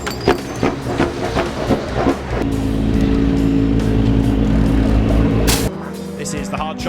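Racing cars lap the track during a Q3 qualifying session, engines rising into a loud sustained roar as a car passes close, then dropping away, with a commentator talking over the whole stretch.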